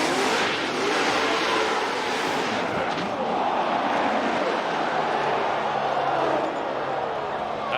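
Continuous roar of Formula Drift cars at Long Beach drifting around a track, engines droning and tires hissing steadily with a crowd-like wash underneath, loud and sustained throughout.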